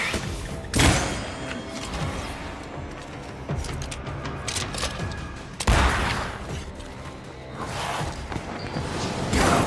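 Gunfire from a corpse enemy in the video game Banishers: Ghosts of New Eden, heard as a few loud thumping shots and bursts around a dense, busy combat mix with whooshes and mechanical clatter.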